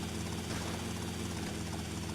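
A helicopter in GTA: Vice City drones steadily throughout, with a continuous rotor and engine hum, close and even, and no talking.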